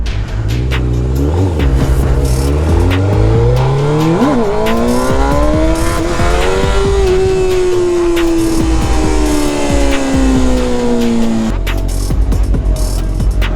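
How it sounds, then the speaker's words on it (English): McLaren 650S sports car engine roaring as it drives past, the pitch rising sharply as it accelerates and then holding a loud, steady high whine before fading away, with no talk over it. "there's the Mclaren"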